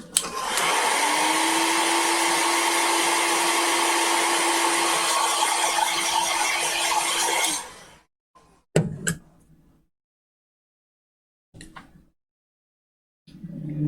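A hair dryer blows hot air to dry watercolor paint on a sketch of a fall wreath, running as a loud steady whoosh for about eight seconds before cutting off, with brief small knocks and a restart afterward.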